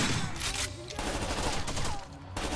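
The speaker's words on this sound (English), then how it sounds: "I headshot it with a shotgun." Dense, loud gunfire from a shooter game, Rainbow Six Vegas 2, with repeated heavy blasts that fit shotgun fire, overlapping in quick succession and filling the whole stretch with little pause.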